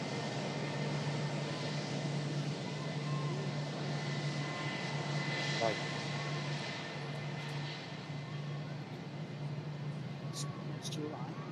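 A Lufthansa Airbus A320 arriving from Munich gives a steady, moderately distant engine roar that holds evenly throughout, with a low drone and faint speech underneath.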